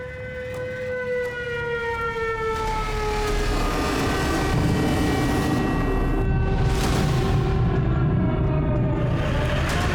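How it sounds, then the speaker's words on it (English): An air-raid siren wails during an attack on Kyiv, its long tone sliding slowly downward while a dense roar of distant blasts and rumbling swells beneath it and keeps building to the end. "Explosions. Oh my God, they started attacking Kyiv."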